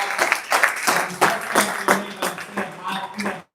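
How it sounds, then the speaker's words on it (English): A group at a live wellness company event claps in quick rhythmic bursts, loud and close, under and between voices, before stopping abruptly. "Let's give him a bigger clap."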